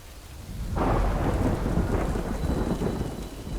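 Heavy rain pours steadily while a deep rumble of thunder rolls in and lingers in the video game Death Stranding, loud and close, with no voices.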